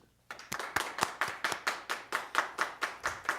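Rhythmic clapping at a Toastmasters meeting as a speaker is welcomed forward: about a dozen even, evenly spaced claps, fairly faint and sounding like a small number of hands rather than a large crowd.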